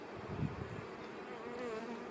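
Honey bees from a young colony, newly settled from a package this spring, buzz steadily around the hive, a dense continuous drone close by with no talking.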